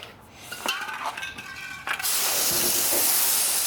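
Water spray rinsing a tire coated with Dupli-Color tire paint: after some faint knocks and movement, a loud, steady hissing spray starts and runs continuously to the end.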